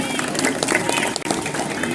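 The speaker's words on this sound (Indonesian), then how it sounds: "Tepuk tangan untuk kita semua." Applause from the audience at a Dharma Wacana gathering during a temple anniversary ceremony at Pura Dalem, Banjar Adat Patoman: steady, dense clapping from many hands fills the space, with voices mixed in.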